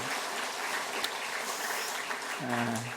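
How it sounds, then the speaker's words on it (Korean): A church congregation in Gwangyang, Korea applauds together in steady, moderately distant clapping that carries on throughout, with a brief voice breaking in near the end. "우리 격려 박수 한번 해주실까요?"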